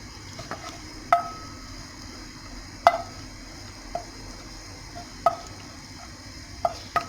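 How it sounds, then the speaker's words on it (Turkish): Tomato paste being stirred into butter and a little oil for mashed lentils, a spoon scraping the pan in sparse clicks and knocks over a soft sizzle, close and quiet. "İki tane salçayı karıştırdım. Tereyağı, az da sıvı yağı."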